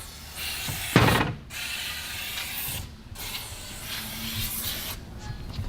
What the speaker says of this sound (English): So you take some of this silicone spray, spray it right in this track.